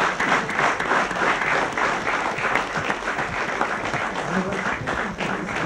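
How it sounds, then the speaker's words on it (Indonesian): Dense, loud applause from an audience fills the whole stretch as a steady wash of many clapping hands, with no clear break or fade. "kita berikan tepuk tangan dulu ya"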